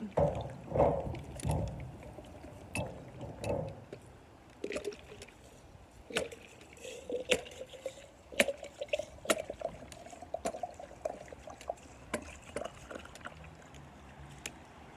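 Liquid poured into a glass jar over rosemary to make a herbal tincture, a soft close trickle and gurgle with scattered knocks and clinks, fairly quiet throughout.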